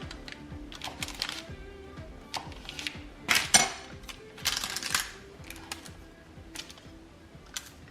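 A knife cuts through a pan of spiced pumpkin bars, making scattered light taps and clicks against the pan, with a few louder scrapes in the middle and no talking.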